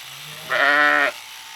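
A single loud, close sheep bleat on a Connecticut farm, wavering and about half a second long, with quiet background before and after.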